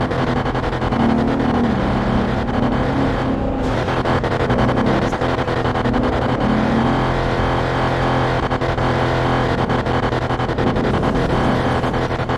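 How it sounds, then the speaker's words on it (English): A car surges past suddenly on a road, its engine roar loud and close over a constant rumble of driving, with a brief dip mid-pass and no voices. "The car just came out of nowhere."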